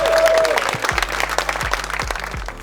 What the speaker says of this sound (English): applause to our winner of the Tour de France,